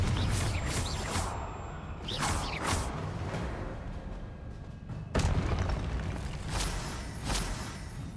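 A Confringo spell explosion in Hogwarts Legacy with sharp booming bursts and whooshes, several impacts spread across the clip, loud against a rumbling background.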